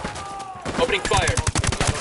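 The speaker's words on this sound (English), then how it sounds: "Opening fire." Sustained rapid gunfire in the video game Ghost Recon Wildlands, dense automatic bursts with loud, close cracks in a quick rhythm, mixed with other game sounds and no clear talk.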